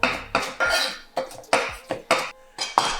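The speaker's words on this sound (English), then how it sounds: "Got some pineapples right here. We're just gonna chop these up." Pineapples being chopped on a board with a knife, giving sharp, close, fairly loud knocks in an uneven rhythm of about a dozen cuts, with faint clatter of utensils and no talk.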